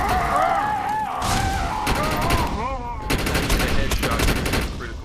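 Gunfire in the shooter video game Defiance, bursts of rapid automatic shots broken by short pauses, mixed with tonal game effects and a groaning voice, fairly loud throughout.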